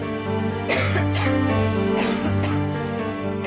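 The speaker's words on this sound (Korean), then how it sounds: "나날이 더해가는 기침과 가래." Repeated coughing from a person with a worsening chest cough and phlegm, several harsh bursts close up over a steady low hum.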